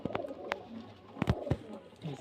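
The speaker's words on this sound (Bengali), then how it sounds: "দেখুন পায়রা পায়রা অনেক পায়রা আছে" Many pigeons at a home in Beldanga Uttarpara give soft, close cooing over about two seconds, punctuated by a few sharp clicks or wing flutters.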